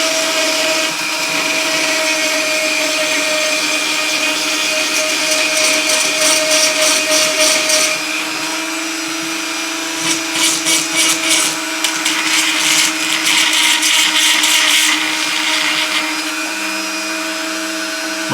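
A rotary tool fitted with a round diamond burr grinds lightly on a model boat, giving a steady high-pitched motor whine with bursts of rasping grit as the burr is rubbed up and down, close and loud, with no talking.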